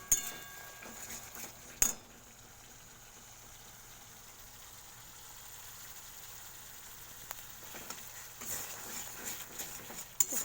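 Spoon stirring egg and pointed gourd curry in a pan, with a few sharp metallic clinks and scrapes near the start and end over a low steady hum, fairly quiet overall.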